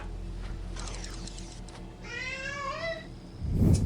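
A cat in the video game Sheltered lets out a clear, drawn-out meow in the middle, alone over quiet low background hum, with a brief thump at the end.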